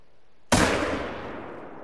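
A hunting rifle fires once in theHunter: Call of the Wild, a loud abrupt blast that rolls away into a gradually fading echo across open terrain, with no voices.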